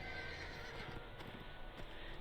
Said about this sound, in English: I'm just gonna hop on my horse to speed this running up a little bit.